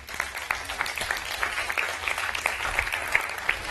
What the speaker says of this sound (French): Sous vos applaudissements quand même.